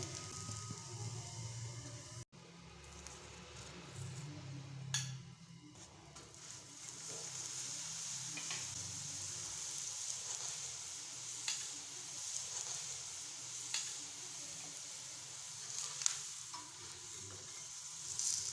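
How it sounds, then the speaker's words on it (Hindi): Methi paratha fries on a hot pan, giving a faint continuous sizzle with occasional soft clicks and taps, with no voices over it. "इसी तरह हम दूसरा पराठा भी फ्राई कर लेंगे"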